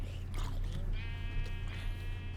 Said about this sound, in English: Yay, white sheep.